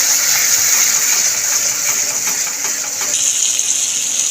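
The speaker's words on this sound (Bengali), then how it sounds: "এবার আমি অল্প অল্প করে পরিমাণ মতন জল দিয়ে একটুখানি কষতে থাকবো" Water poured little by little into masala frying in oil in a pan for a Bengali egg curry, giving a steady, loud gushing hiss that fills the whole stretch with no voices.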